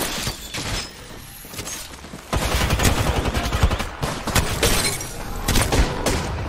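Gunfire in the battle royale game Apex Legends: dense bursts of rapid shots and impacts, louder from the middle onward, with sharp cracks and booms mixed through a busy, continuous firefight.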